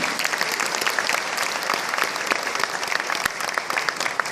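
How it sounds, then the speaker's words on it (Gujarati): Audience applause at a ceremony honouring a social worker: dense, steady clapping from a crowd that fills the whole stretch, loud and continuous with no speech over it. "આપણે જોરદાર તાળીઓથી એમનું અભિવાદન કરીશું."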